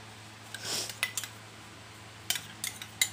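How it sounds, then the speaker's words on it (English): Yogurt spooned into a steel dish: a few light metallic clinks and taps of a spoon against steel, close and quiet, in two short clusters over a faint steady hum, with no voices. "I'm going to set some yogurt in the steel dish"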